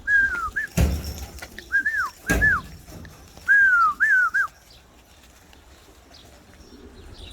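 Elvan flying pigeons taking off: two sharp wing claps amid repeated clear whistled calls, then quieter flapping fading away overhead.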